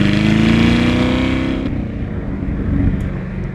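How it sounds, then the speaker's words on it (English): A 2019 Chevrolet Camaro 1LE with dual sport exhaust accelerating hard from inside the cabin, engine note climbing steadily and loudly before an upshift drops the pitch and the drone settles. "Let's feel a little bit of that acceleration."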